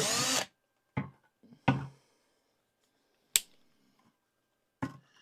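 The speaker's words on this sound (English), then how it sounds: "I have an older, just a probably Harbor Freight cheap drill that I use on this." A cheap Harbor Freight electric drill bores a starter hole while building a solar Meshtastic node, firing in several short, separate bursts, the first the longest, with quiet gaps and a few small clicks between them.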